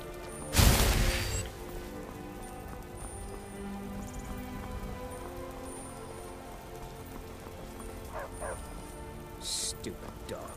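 A dog in Skyrim gives one loud sharp bark near the start, followed by low ambient game sound like rain with faint later yips.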